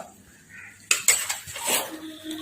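Metal pan of oil set down on a kitchen stove, a few sharp clanks and scrapes of cookware in quick succession, fairly close.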